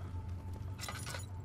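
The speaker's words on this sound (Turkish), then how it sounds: "cam kavanozu aldım" A glass jar is picked up in Amnesia: The Dark Descent, a short bright glassy clink and rattle midway over a low steady ambient hum.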